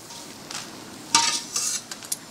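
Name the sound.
sautéing mushrooms in a pan until brownish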